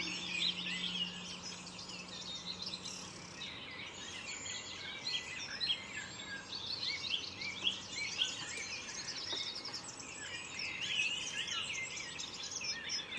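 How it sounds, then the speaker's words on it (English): Several birds sing and chirp steadily at some distance over a quiet, still outdoor background, with no voices. "There's a deep silence of human noise here, broken only by the voices of birds."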